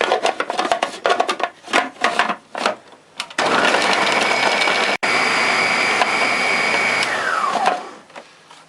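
Zucchini for Korean mandu dumplings is blended: a few close handling knocks and clicks, then a loud steady blender whir for about four seconds before it winds down.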